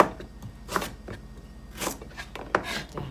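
Dull knife slicing tough galangal and lemongrass on a board, several irregular short crunchy cuts, close and quiet, with no talk.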